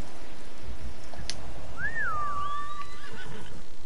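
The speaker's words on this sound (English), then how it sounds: "Where's it gone, my horse?" A horse in the video game Ghost of Tsushima gives one loud, clear whinny that rises and then trails off, over a steady patter of rain.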